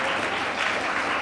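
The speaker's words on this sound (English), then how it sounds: "Round of applause for yourself" A graduation audience at a primary school ceremony gives a round of applause, dense continuous clapping close and steady throughout the short stretch.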